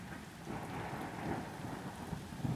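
A thunderstorm with steady rain pattering on surfaces and low rolling thunder rumbling underneath, a dense continuous wash of sound with no voices.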